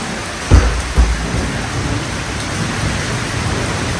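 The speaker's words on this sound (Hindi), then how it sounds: "धुआंधार बारिश।" Heavy monsoon rain pours down in a dense, loud steady hiss, with two low thudding rumbles near the start and no talking.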